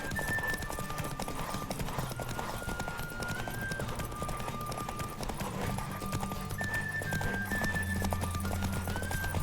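Rhythmic hoofbeats of a galloping horse over a backdrop of game music with synth tones, continuous and fairly loud.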